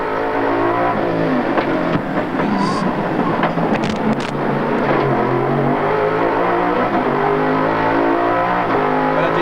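Race-broadcast V8 Supercar engine at the 2001 Gold Coast Indy, running rough on a dropped cylinder, a loud continuous uneven drone with shifting harmonics and no clean revving.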